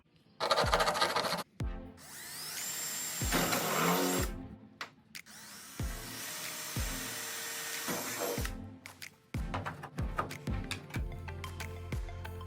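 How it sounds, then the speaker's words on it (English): A power drill whirs in several bursts while drilling bolt holes for a car hood latch, starting and stopping repeatedly, loud and close, with brief clicks and pauses between runs. "mark the holes so that I can drill the holes through and then bolt it up"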